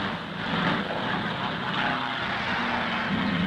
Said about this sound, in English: To blast them out of the town, the planes are called up.